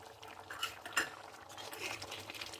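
Chayote dal being moved from the cooking pot into a serving vessel, soft metal utensil scrapes and a couple of light clinks against the pot, close and quiet with no talking.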